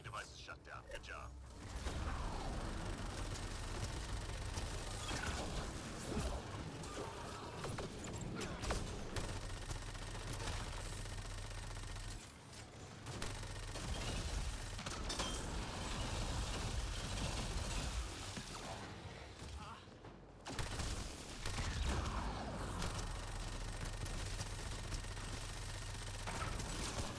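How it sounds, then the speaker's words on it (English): Enemy gunfire in a Mass Effect Andromeda multiplayer match, rattling in dense mechanical bursts over a loud, steady game soundscape with only brief dips in the action. "They're firing!"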